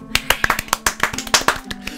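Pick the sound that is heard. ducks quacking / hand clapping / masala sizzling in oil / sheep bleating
hand clapping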